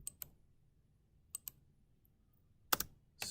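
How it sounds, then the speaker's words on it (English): Spacebar on a computer keyboard pressed in a handful of separate clicks: a quick pair at the start, another pair just after a pause, then a louder doubled clack and a final press at the end, close and dry against near silence. "Spacebar on the keyboard again."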